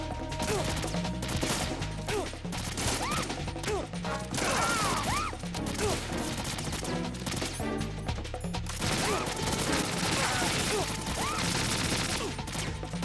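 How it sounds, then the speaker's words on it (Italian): Gunfire in the video game Metal Gear Solid 2 comes as repeated sharp bursts and crashes over a dense game soundtrack, with rapid volleys spread across the whole stretch. "Che sta sparando alla ragazza?"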